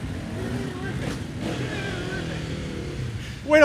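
A two-stroke racing engine at an off-road scramble buzzes and revs in the distance, then rises sharply in a loud, rasping burst near the end, with voices talking over the start.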